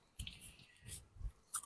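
Crispy vegetable fritters (bakwan sayur) are chewed close up in a few quiet crunching bites, soft and sparse with short pauses between them.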